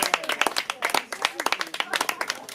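Individual handclaps ring out at a slam poetry night in a small venue, sharp and uneven with gaps between bursts, while people talk and call out over the clapping.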